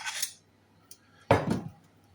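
A metal spoon scoops and clinks against a bowl while portioning an ingredient, with two distinct scrapes and taps separated by a quiet pause.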